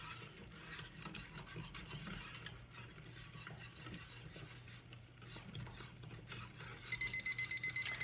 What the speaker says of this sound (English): My little timer's going off.